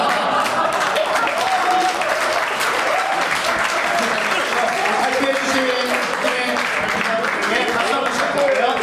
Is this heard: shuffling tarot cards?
no